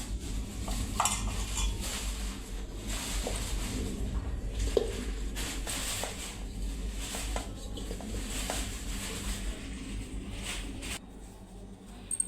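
Chopped jackfruit pieces tumble into a pressure cooker pot, with light clattering and scraping of metal against the pot over a steady low background hum.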